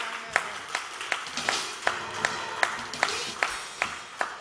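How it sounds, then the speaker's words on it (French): A congregation at a church gathering claps in a steady rhythm, about a dozen spaced claps in under five seconds, close and moderately loud, with no clear cheering. "Acclamons le Seigneur."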